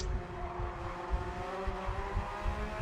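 A Porsche 992 GT3 R race car with a 9,000 rpm flat-crank flat-six accelerates hard, a steady high-revving engine tone heard from a moderate distance amid track ambience.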